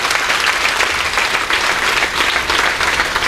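Loud, sustained clapping from an audience at a school program in Pragpur, thick and continuous with slight swells throughout.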